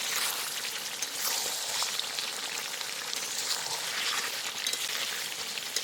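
Duck meat and fried potatoes sizzle and crackle steadily in a hot pan as they are stirred and sautéed, a dense, continuous frying hiss with no talking.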